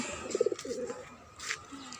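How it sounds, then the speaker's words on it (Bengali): A few soft pigeon coos around the middle, faint against outdoor background noise on a rooftop vegetable garden, with a brief hiss later. "এদিকে হচ্ছে কবুতর বসে আছে"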